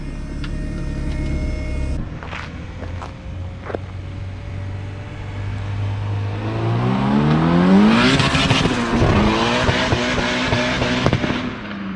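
A turbocharged Honda CRX with a boosted B18C1 engine idles, then revs up and accelerates hard, its engine note climbing loudly over several seconds, with sharp pops and crackles as it pulls away.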